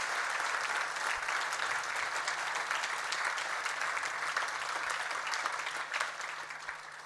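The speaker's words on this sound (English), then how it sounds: "give them all a warm round of applause" Steady, dense applause from a large audience in a congress hall at an international hockey federation meeting, sustained and even for the whole stretch with no voices over it.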